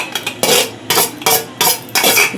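A spoon works grated fresh coconut and Malvani masala together in a bowl, making five or six rhythmic scraping strokes with short pauses between them, close and fairly loud.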